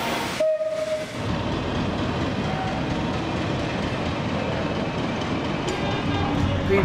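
A steam locomotive sets off from a heritage railway platform, a loud continuous rumble and hiss of the engine pulling away after a brief whistle at the start, with voices faint in the mix.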